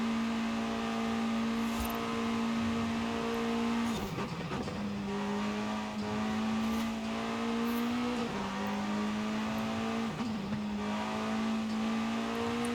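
An S1-class car in Forza Horizon 5 holds a loud, steady engine drone with a sustained tone. The pitch dips and recovers a few times as the throttle lifts through corners, with faint tire noise underneath.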